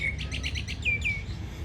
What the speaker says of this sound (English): And the ever-present sound of the birds, which I love.